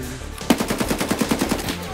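Rapid automatic gunfire from a close-range fight with the Scav boss Shturman in Escape from Tarkov, a burst of about a dozen evenly spaced loud shots lasting roughly a second, with no talk over it.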